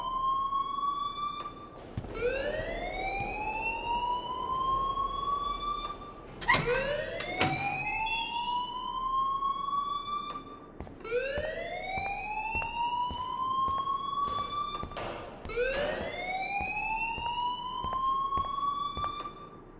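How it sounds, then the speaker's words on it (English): A loud electronic alarm blares in the Life is Strange video game, repeating rising whooping siren sweeps roughly every four seconds, with brief clanking sounds between cycles and no talking. "please turn off that alarm since that's your job."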